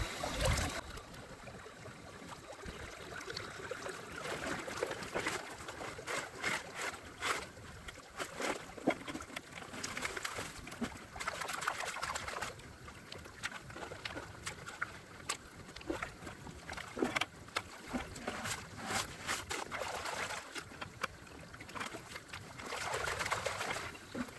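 Water rushes steadily through a gold gutter sluice as it runs, a continuous close broadband wash with a good current, without speech.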